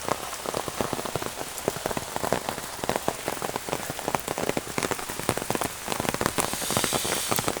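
Heavy rain falling in a village setting, continuous close patter of drops hitting surfaces with sharp individual splats, steady throughout and heard alone.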